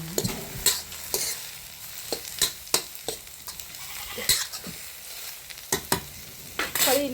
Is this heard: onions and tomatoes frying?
yes